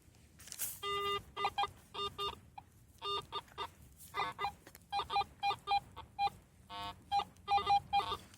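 A metal detector over a buried target in frozen ground gives a rapid run of short, chirpy electronic tones, about two dozen close beeps in uneven bursts, fairly quiet and without talk.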